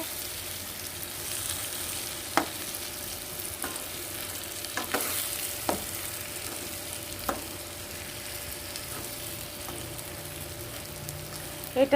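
Mango chutney with sugar being stirred in a pan, a steady low sizzle with scattered scraping knocks of the spoon, fairly quiet and close, no voices.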